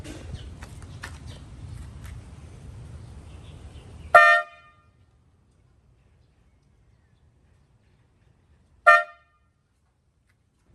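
Mitsuba JDM car horn fitted to a Honda Civic, sounded in two short loud honks several seconds apart after background noise and rustling cut out, with quiet between.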